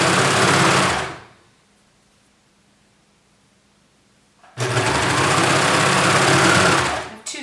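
A serger sewing machine stitches fabric for a shirt in two loud, fast whirring runs, the first about a second long, then a few seconds of near silence before a second sustained burst.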